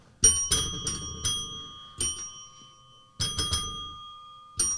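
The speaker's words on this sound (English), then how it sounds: "This one's a trad bell. I just like the different notes." Small bells struck one after another in clusters, each a bright ringing tone with a different pitch, sustaining briefly before the next strikes.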